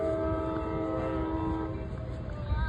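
A train horn sounds in a sustained, chord-like blast at an outdoor barbecue competition, moderately distant and steady before fading, over a rumbling background.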